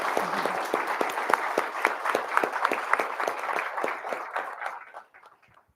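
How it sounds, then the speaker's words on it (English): An audience at a board of education swearing-in ceremony applauds for the newly sworn-in board members, steady rhythmic clapping from a modest crowd for about five seconds before it fades out. "Let's give them all a round of applause."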